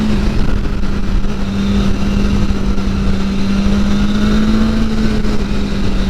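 Engine of a 2022 BMW S1000R Sport motorcycle, a steady, loud, close drone held at an even pitch throughout with no pauses.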